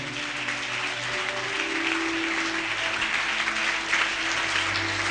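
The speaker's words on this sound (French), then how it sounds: "Est-ce que nous pouvons acclamer pour le roi des rois?" A church congregation applauds and cheers continuously at a fasting prayer gathering, a dense, loud wash of clapping with mixed voices sustained throughout.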